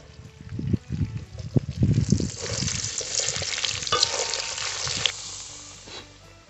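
Cut potatoes frying in oil in a pan for a Bengali Malabar spinach and fish-head chyachra, with a steady sizzle and bursts of stirring scrapes, fairly close and alone without talk.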